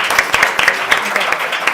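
Audience at an International Day of Rural Women event claps at a brisk, uneven rhythm, individual hand claps distinct and close, steady throughout.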